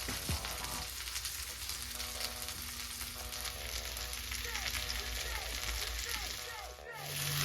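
BBQ pork chops sizzle steadily in a skillet, a continuous close crackling fry with faint tonal whines and a brief clunk near the start, while someone talks over it.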